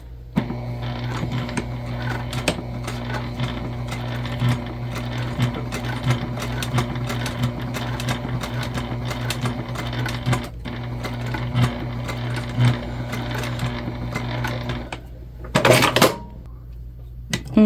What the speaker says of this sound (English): and then we're going to stitch across.